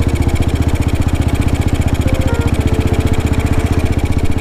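A 1952 BMW R25 single-cylinder motorcycle engine runs close by with a steady, rapid, low-compression thump, loud and even throughout with no talk over it.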